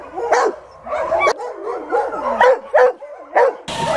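West Siberian laika dogs in a kennel bark repeatedly and overlapping, a rapid, busy chorus of yelping barks close by, with several dogs sounding at once.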